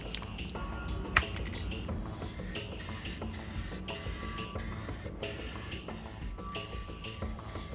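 Aerosol spray primer misting over XPS foam terrain for a Nurgle rot forest, a continuous close hiss that pulses slightly in strength, with a sharper burst near the start.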